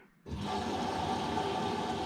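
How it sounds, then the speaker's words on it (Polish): After a brief quiet moment, water suddenly rushes into a Beko washing machine that had not been taking in water due to a blockage, with a loud, steady gushing flow that continues without pause. "teraz idzie woda"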